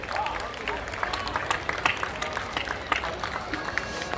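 Audience applause at a Hindi poetry recital (kavi sammelan) during a Ramleela event, a dense steady wash of many hands clapping with scattered sharper claps, loud and sustained throughout.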